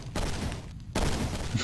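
A cannon in a video game fires a ball with two loud, booming blasts, separated by a short silent gap, each one followed by a rumbling tail.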